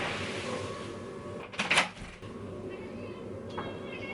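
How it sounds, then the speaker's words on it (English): A cat rummaging in a household cupboard, heard as a brief burst of rustling and knocking in the middle, then a fainter scrape, over a steady room hum with no talking. "I can see my cat being naughty in the cupboard"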